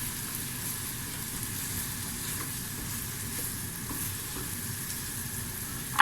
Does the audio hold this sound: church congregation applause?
no